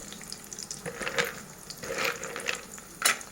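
Onions, green chillies, ginger and curry leaves fry in a pan for rava upma, a soft steady sizzle broken by a few scraping stirs, close by with no talk.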